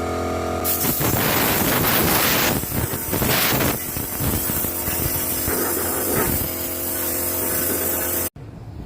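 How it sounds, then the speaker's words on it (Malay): A strong air blower rushes continuously into a metal tank to dry it after cleaning with rust remover, a loud, steady hissing roar with shifting gusts that cuts off near the end. "Dan sekarang ni aku keringkan. Cara aku guna angin lah, cepat sikit."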